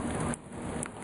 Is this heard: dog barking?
no